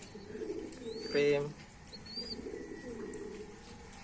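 A Lahore fancy pigeon, white-breasted, gives a short cooing call up close, followed by softer murmured coos in a quiet room, with a voice speaking briefly.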